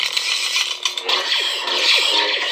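An Anakin neopixel lightsaber's sound font fires its multi-blast blaster deflect effect: a humming saber tone broken by rapid, crackling electronic bursts and zaps, loud and close, with no voices.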